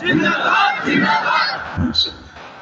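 A crowd at an Islamic sermon answers a preacher's call with a loud shouted takbir chant, several bursts of massed voices in quick succession before trailing off.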